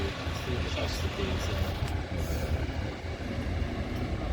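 A British-built Leyland Leopard coach rolls into the arena at a coach rally in Blackpool, its diesel engine rumbling steadily at moderate distance while a commentator talks over a public address.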